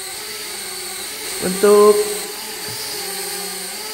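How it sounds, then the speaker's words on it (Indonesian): A SMART S105A selfie drone hovers in altitude hold, its steady motor and propeller whine holding as a constant mid and high drone throughout, with a person speaking briefly over it. "Dan ini drone sudah altitude hold ya."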